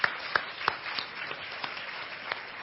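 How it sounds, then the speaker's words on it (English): An audience applauds after a live injection demonstration; scattered claps land over a soft, steady background of clapping, fairly faint and without talk. "let's give our patient a round of applause for being so great"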